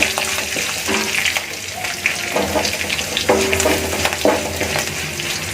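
Cut green chilies and three or four dried red chilies fry in hot oil for a village-style squid roast, a loud close sizzle with bubbling hiss and repeated spatula scrapes against the pan.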